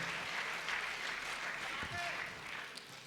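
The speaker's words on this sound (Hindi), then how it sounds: "एक बार जोरदार तालियां" Faint, distant applause from the audience at a Hindi poetry mushaira at IIT Delhi Literati'25, a steady wash of clapping with a few soft voices mixed in.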